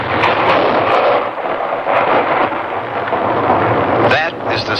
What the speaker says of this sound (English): That is the sound of a United States Forest Service artillery team clearing an avalanche in the Colorado Rocky Mountains.